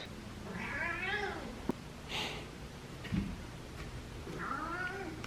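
A cat meows three times, once near the start, once in the middle and once at the end, with faint breathing and small snorts between calls, all fairly quiet and close.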